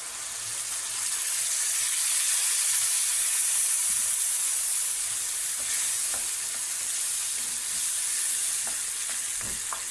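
Tomatoes tossed into onions already browned in the pan set off a steady, loud sizzle with soft stirring scrapes over the broad frying hiss, no voices throughout.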